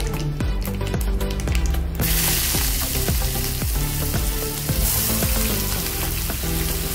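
Finely chopped onions fry in a pan with asafoetida, browning for bread bhaji: a loud, continuous close sizzle with a steady rhythm of stirring scrapes throughout.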